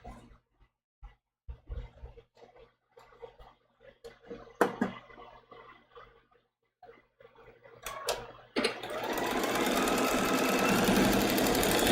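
A sewing machine stitches a quarter-inch seam on a small foundation-paper-pieced maple leaf quilt block. After scattered quiet handling clicks, it starts up and runs in a steady, close, rapid whir to the end.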